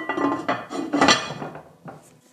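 A metal lid is set onto a cooking pot of fennel in water, a short cluster of close clattering clinks and a scrape as it settles, then a faint final tap.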